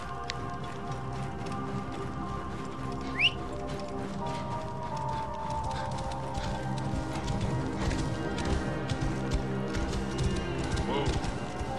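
Horse hooves clop along steadily as a rider travels in the video game Assassin's Creed Origins. The rhythmic beat continues under game music and speech.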